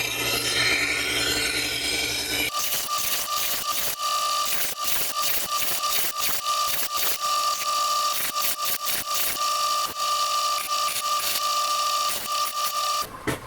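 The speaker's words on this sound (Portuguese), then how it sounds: "Na hora de afiar, tem que cuidar para manter sempre o mesmo ângulo e para não arranhar aqui para cima." A handmade luxury knife blade being sharpened, giving a loud, continuous abrasive grinding with a sustained whine and rapid rasping strokes throughout, preceded by a brief different mechanical hum.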